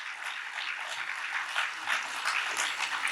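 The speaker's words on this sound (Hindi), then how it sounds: "एक बार अपने लिए जोरदार ताली" An audience at a spiritual talk applauds itself, a dense, fairly faint burst of clapping from a crowd that stays steady for a few seconds.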